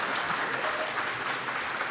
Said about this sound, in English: Can we get like some applause for that